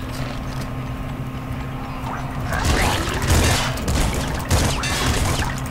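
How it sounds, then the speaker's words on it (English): Grenade launcher blasts in Nuclear Throne, a burst of several booming, crackling explosions in quick succession over steady game music. "Yep, grenade launcher."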